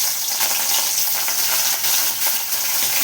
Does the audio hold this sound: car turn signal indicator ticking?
no